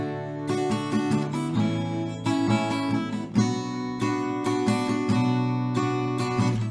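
Acoustic guitar strums the chorus chords of a song in a steady up-down rhythm, full bright chords changing every bar or so, played alone and close.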